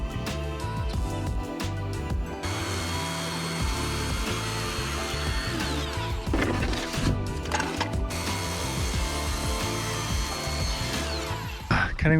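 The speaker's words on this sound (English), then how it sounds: "Cutting with a saw is definitely overkill." A power saw cuts ICF foundation material at a house build, buzzing loudly and continuously close by, its pitch shifting as the blade works through the foam.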